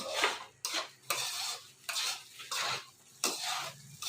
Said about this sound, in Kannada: ಈಗ ಇದನ್ನ ಚೆನ್ನಾಗಿ ಸ್ವಲ್ಪ ಹೈ ಫ್ಲೇಮ್ ಕೊಟ್ಕೊಂಡು ಫ್ರೈ ಮಾಡ್ಕೊಳ್ಳೋಣ ನಾವು